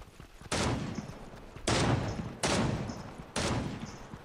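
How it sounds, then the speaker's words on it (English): Video game gunfire comes in four loud, abrupt bursts of rapid shots, each cutting in sharply and tailing off before the next volley. "We're getting shot."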